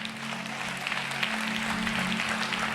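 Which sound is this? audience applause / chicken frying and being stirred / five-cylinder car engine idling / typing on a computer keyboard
audience applause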